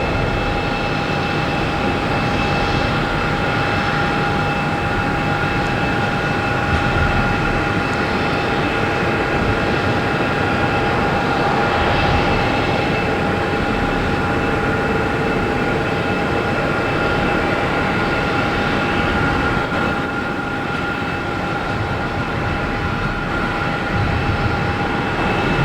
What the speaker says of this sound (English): we have JetBlue and A220 heading to Richmond, flight 381